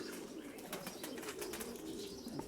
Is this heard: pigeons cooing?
yes